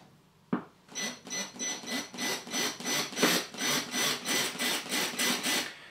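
A power drill pulsed against a glazed tile surface while installing a towel radiator, a single sharp knock followed by a steady run of about a dozen rhythmic grinding bursts, close and loud with no talk.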